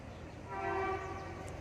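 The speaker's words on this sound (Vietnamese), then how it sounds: "Tàu đang tới rồi." A train approaching a railway line sounds a single sustained horn blast over steady rumbling rail noise, somewhat distant and moderately loud, with no talking.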